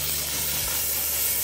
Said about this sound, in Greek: Βάζουμε το θράψαλο μέσα και αρχίζουμε το ψυγάρισμα.